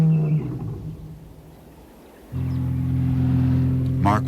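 A lion roaring at dawn in African dry river country: a low, heavy roaring grunt at the start, a quieter lull, then a long, loud, droning rumble near the mic with an onset about midway.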